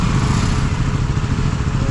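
A KTM motorcycle on the road from Dapoli to Mumbai gives a loud, close, steady engine drone with rough pulsing while it weaves through a traffic jam. No speech is heard over it.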